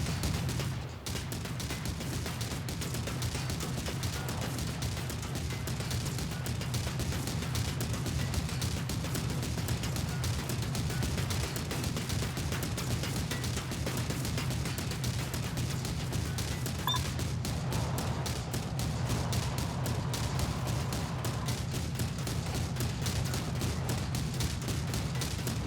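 A 30mm chain gun firing armor-piercing rounds in a TerraTech game mod, a long, rapid, continuous stream of shots lasting the whole stretch at steady loudness, with no voices.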